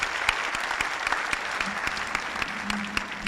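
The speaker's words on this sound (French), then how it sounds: "on peut applaudir" An audience at a round table on pesticides in the environment claps in a brief, even burst of many hands, fairly close and continuous from start to finish.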